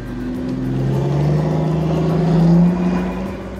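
A Mercedes-Benz Maybach Accelero test car runs its engine as a steady, close, low drone with a slowly rising and falling pitch, swelling slightly in loudness before easing off.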